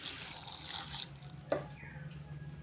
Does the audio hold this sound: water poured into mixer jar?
yes